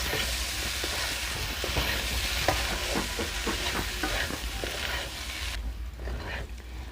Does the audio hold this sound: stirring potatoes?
yes